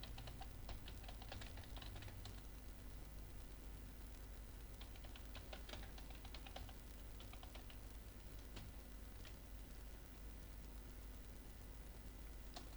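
Fingers tap a computer keyboard while typing a Microsoft Word assignment, with quick irregular clicks and occasional firmer Enter-key presses over a steady background hiss, close and fairly quiet.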